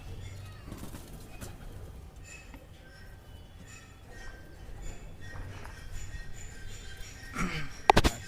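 Pigeons on a rooftop loft give soft, low, repeated coos over quiet background noise, ending in a sudden burst of wing flapping as one takes off.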